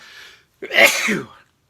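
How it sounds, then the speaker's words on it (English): A single loud sneeze up close, preceded by a brief breathy inhale, then silence. "I think I'm going to sneeze"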